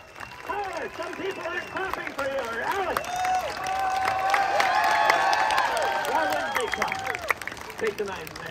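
A street-show audience in San Francisco claps and cheers in a sustained wash of applause around a circus act, with crowd chatter and voices mixed throughout.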